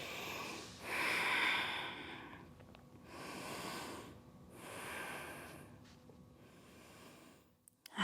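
A person in a humble warrior yoga pose breathes heavily through the nose, several slow, audible exhales and inhales spaced a second or two apart, close and quiet with no talk.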